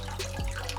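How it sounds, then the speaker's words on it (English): Broth for Filipino pancit bihon poured into a hot wok, a brief close gush of liquid with a low splashing thud in the middle, against a steady background hiss. "Now it's time to pour the whole broth."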